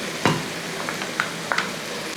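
Diced potato and carrots sizzle softly in a pan, a low, steady frying hiss with a few light clinks and stirring taps, close by and without speech.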